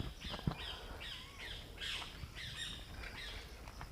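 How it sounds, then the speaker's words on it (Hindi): Birds chirp and squawk in the forest of Keoladeo National Park, a bird sanctuary, with several faint, distant calls repeating in short bursts over quiet outdoor ambience. "पंछियों की चहचहाहट की आवाज़ आपको हमेशा मिलेगी इस जंगल में।"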